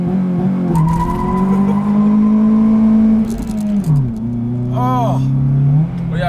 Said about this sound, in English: I want to do launch control again because why not?